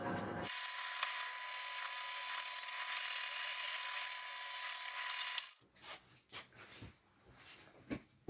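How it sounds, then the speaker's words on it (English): A drill bores through stainless steel, running steadily at high pitch for about five seconds with a grinding, whining tone, then stops, leaving a few scattered clicks and knocks. "So now drilling."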